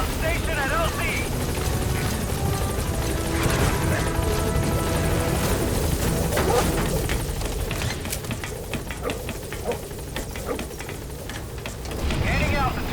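The P-Quad helicopter lands in Metal Gear Solid V: The Phantom Pain, its loud, continuous rotor chop and engine roar filling the scene while voices talk over it.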